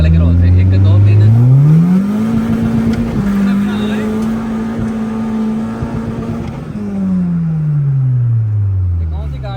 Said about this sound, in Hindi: अब गाड़ी भगा के चेक करते हैं पहले के रोल से।